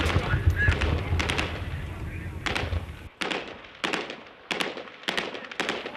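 Gunfire rings out in Mosul during the fight against Islamic State occupation: sharp cracks in quick irregular bursts, some near and loud, with a voice and rumbling noise early on.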